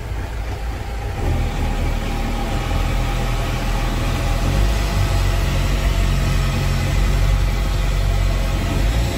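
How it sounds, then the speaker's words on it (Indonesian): Steady, loud outboard speedboat engine droning at a constant idle-like pitch, towing a string of barges on a reservoir during sludge dredging and hauling work; no voices. "Tongkang-tongkang ini ditarik oleh 1 unit speedboat."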